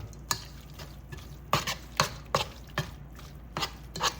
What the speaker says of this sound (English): So I'm just stir it and make sure the cheese gets nice and dissolved